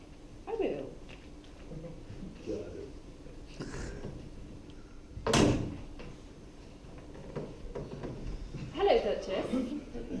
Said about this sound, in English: will you open the door for me?